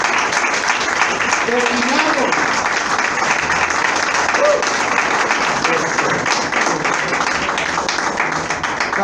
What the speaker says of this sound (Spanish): Den un aplauso al Señor por eso.